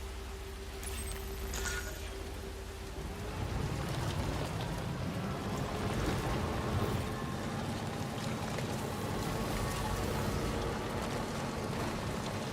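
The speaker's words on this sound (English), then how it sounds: "I kind of like the rain effects that's going on." Steady rain in the video game Death Stranding 2 patters and hisses continuously, growing a little heavier partway through, with a low rumbling undertone and no voices.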